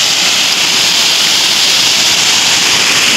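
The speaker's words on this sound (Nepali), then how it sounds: "झर्ना यस्तो छ" Steady, dense rushing of falling water, constant and broadband with no pauses, like a waterfall heard from close by.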